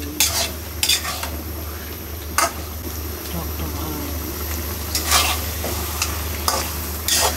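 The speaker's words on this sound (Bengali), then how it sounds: "মাথা, ডাল, টমেটো সব একসাথে ভালো করে এখন কষা হচ্ছে" Fish head, dal and tomato being sautéed together in a pan, with scraping and stirring over a steady frying hiss, sharp utensil clinks at intervals, and faint voices in the background.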